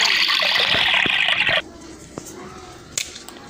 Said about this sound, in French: je vais verser une portion d'eau